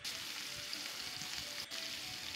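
Ginger and garlic frying with onions in oil for spicy idli, a faint, even sizzle with a soft stir near the end, short and continuous with no voices.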